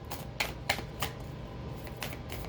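Tarot or oracle cards are shuffled by hand in a reading, producing a series of crisp snapping riffles at an uneven rhythm over a faint background hum, close up with no talking.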